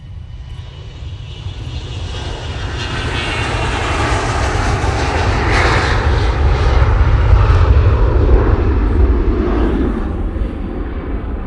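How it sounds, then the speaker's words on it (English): A Challenger business jet departs, its engine roar swelling from a moderate rush to a loud, deep, close rumble with a fading whine near the end, heard alone without talk. "Nice Challenger departure there."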